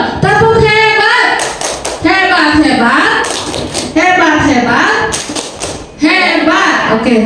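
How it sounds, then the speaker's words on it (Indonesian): A group does the rhythmic tepuk hebat clapping chant in an Indonesian school setting, loud and close, with sharp claps in a patterned beat mixed with voices chanting along. "Tepuk hebat untuk Bu Nur."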